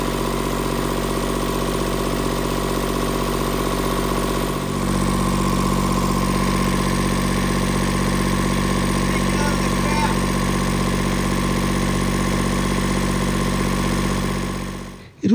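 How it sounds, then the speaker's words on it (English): A diesel engine runs continuously as a loud, close, steady drone, shifting tone slightly partway through before cutting off abruptly at the end. "they are bombarded by the sound of a diesel engine"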